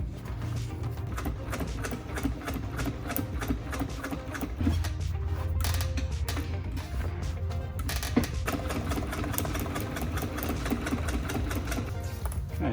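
A sewing machine runs steadily, laying heavy blue top stitching along a French seam on a Harley-Davidson motorcycle seat in a custom car shop, its rapid mechanical chatter continuous and close throughout.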